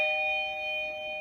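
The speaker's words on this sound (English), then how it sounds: "it dings like someone's ringing the bell, so you'll be able to hear it" A Eufy battery-powered wireless video doorbell chime rings indoors, a sustained electronic ding with steady bright tones held through the moment, close and clear with no talking.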